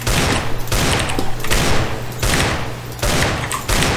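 Video game gunfire: dense, loud bursts of rapid shots in repeated volleys roughly every second, continuous and close, with no talking over them.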